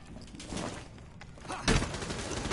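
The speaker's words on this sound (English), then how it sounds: "We're shooting through the wall." Video game gunfire during a shootout fired through a wall, a dense clatter of shots with one heavy, louder burst near the end over a noisy background.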